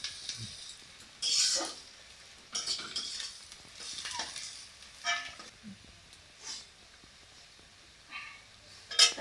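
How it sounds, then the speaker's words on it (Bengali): Onions frying in a pan in a home kitchen, with intermittent stirring scrapes and soft sizzling bursts at close range, separated by quieter gaps and a few clinks of utensils. "তো এই দেখো পেঁয়াজ ভাজা হচ্ছে"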